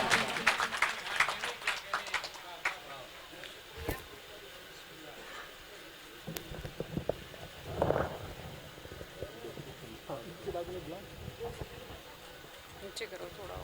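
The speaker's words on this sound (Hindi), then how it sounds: "एक बार जोरदार तालियां" Audience at an outdoor mushaira poetry gathering during an Urs fair in Muradnagar, Ghaziabad, clapping in a brisk burst at first that thins into scattered claps and crowd murmur, with someone speaking through a public address over it.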